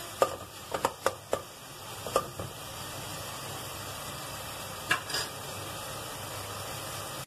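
Onions sautéing with salt and turmeric in a pan for a crab gravy, a soft steady sizzle with a cluster of sharp stirring scrapes early on and a couple more later, no voices.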